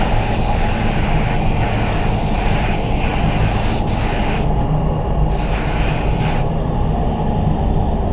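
A spray gun sprays 2K paint continuously up close, hissing with steady pneumatic rushing that briefly drops in tone between passes.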